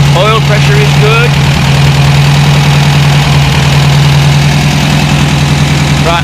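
A rebuilt VW buggy engine idles loud and steady while warming up, its revs running a little fast, with a constant low drone and faint higher whirring sounds throughout.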